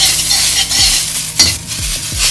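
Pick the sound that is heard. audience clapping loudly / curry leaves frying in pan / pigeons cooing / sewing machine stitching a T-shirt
curry leaves frying in pan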